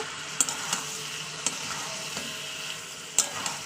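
Spiced chicken with ginger and garlic being cooked down on a high gas flame for red chicken kosha crackles in a steady close sizzle, punctuated by several sharp spatula knocks and scrapes against the pan, with no talking.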